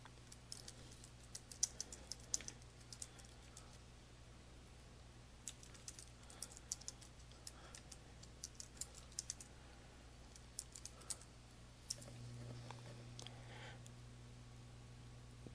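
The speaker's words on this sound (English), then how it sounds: "You simply type your comment into the text box." Quiet computer keyboard typing as a comment is entered into an Excel 2013 worksheet cell: scattered soft key clicks in irregular bursts over a low steady hum, with a faint shift in background noise near the end.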